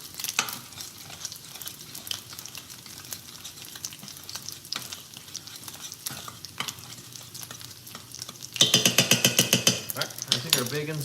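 Bacon fries in a pan with a soft continuous sizzle, punctuated by scattered clicks and utensil scrapes, then a burst of louder rapid crackling near the end as the pan is stirred.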